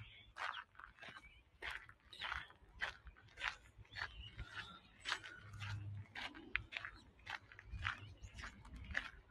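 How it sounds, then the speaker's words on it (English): Footsteps crunch on a gravel path along a seaside headland, a steady walking rhythm of close, crisp steps with faint background sound from the open coast. "I'm going to try and walk on the grass a bit so you can hear the ocean instead of my feet crunching on gravel."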